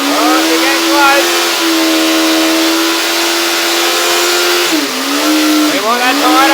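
A motorcycle doing a burnout holds a loud, high, steady engine rev, dipping briefly near the end before climbing again, with tyre hiss underneath.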